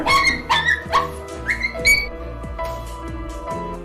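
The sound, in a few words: dog whimpering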